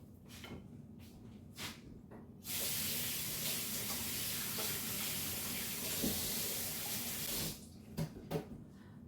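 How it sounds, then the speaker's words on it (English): A kitchen faucet runs in a steady, hissing stream for about five seconds as hands are rinsed beneath it, with a few soft knocks and handling sounds before and after, heard at fairly low volume. "Let me rinse my hands right quick."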